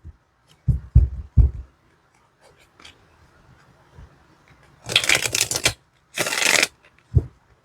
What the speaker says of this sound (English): I can shuffle this